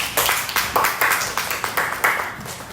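A classroom audience claps together in a steady, rhythmic beat, about two claps per second, loud and close, with no talk over it.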